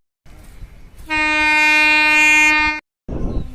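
A train horn sounds one loud, sustained blast of about two seconds at a railway station, with rumbling platform noise before it and after it.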